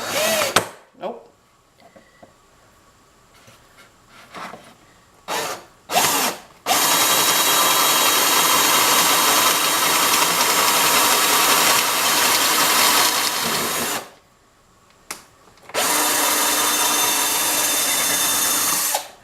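A power drill boring pocket holes in wood with a pocket hole jig, a few short trigger bursts and then a long loud steady whine of the bit cutting, a pause, and another sustained run of drilling.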